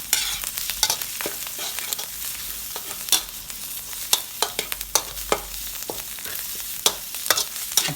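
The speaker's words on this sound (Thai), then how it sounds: "ผัดไปเรื่อยๆเลยนะคะ ผัดจนหอม" Steady sizzling of Thai jungle curry paste frying in a hot pan, with frequent sharp scraping clicks from a spatula stirring it, close and fairly loud.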